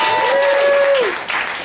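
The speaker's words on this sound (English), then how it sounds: "Get that guy a round of applause." Scattered clapping from a small crowd at a café open mic night, brief and fairly close, with a whistle-like tone and voices mixed in.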